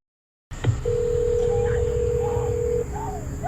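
A telephone placing an emergency 911 call: one long steady dial tone, with short faint tonal blips around it against low background hum, and no voices.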